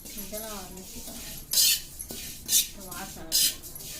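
Cumin seeds stirred in a pan while roasting masala, with repeated bursts of a spoon scraping metal, and a voice speaking briefly at the start.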